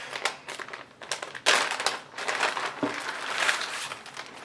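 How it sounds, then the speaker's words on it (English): Items are pulled out of the bag holding an A Bathing Ape t-shirt, giving irregular bursts of crinkling and rustling plastic, close and moderately loud, with no talking. "Let's go ahead and take everything out of the bag."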